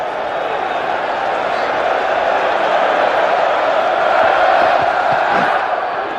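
A large crowd at Edgbaston roars and cheers for the England cricket team during a 2009 Ashes Test against Australia, a dense, sustained swell of voices that stays loud and steady throughout.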